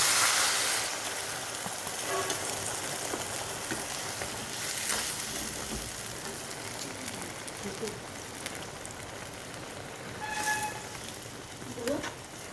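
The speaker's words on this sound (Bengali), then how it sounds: "আমার মাংসটা কষা হয়ে এসেছে এর মধ্যে দেবো আমি জল" Water poured into browned chicken pieces in a hot pan sets off a steady, close rushing sizzle that hisses on throughout, with a few small clinks near the end.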